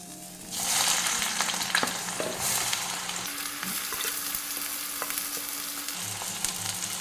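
Onion hits hot oil with melted sugar for ghugni, and a loud sizzle surges up at once, then settles into a steady close frying hiss with light stirring scrapes.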